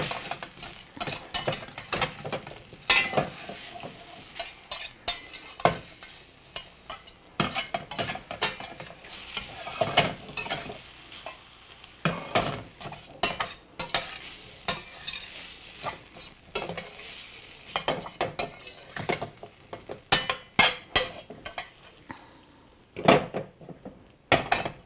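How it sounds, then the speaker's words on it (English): Soy soup ingredients stirred in a pot with a little oil, a long run of quick, irregular spoon scrapes and clinks over a light sizzle, close up and with no speech. "I'll give this a stir"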